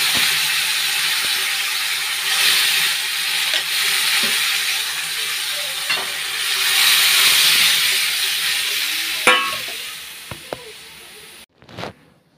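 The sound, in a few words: lentils (dal) frying in hot oil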